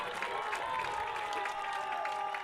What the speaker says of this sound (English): I think everybody on the Eagan sideline, everyone's clapping